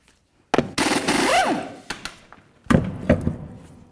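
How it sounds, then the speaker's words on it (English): An impact wrench on the rear wheel of a Chevy Silverado pickup rattles loudly in two bursts, the first a long whining buzz with a pitch sweep and the second shorter and choppier, with brief pauses between as each lug nut comes off. "we're going to go ahead and remove all six of these lug nuts."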